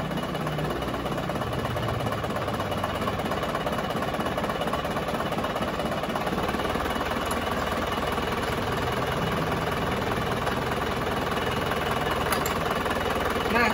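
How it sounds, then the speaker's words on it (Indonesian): A diesel engine runs unevenly with a loosened injector nozzle, giving a continuous loud, close idle with a limping, uneven beat but no harsh knock. "kalau kita kendorkan nozzle mesinnya menjadi timpang tapi mesinnya tidak menjadi lebih kasar cuma timpang saja"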